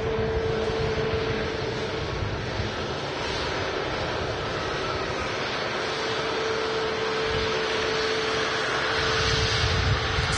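A Ryanair Boeing 737 MAX with winglets at Manchester Airport gives a steady, loud, broadband jet roar that holds for the whole stretch, with a constant tonal whine running through it and no talking.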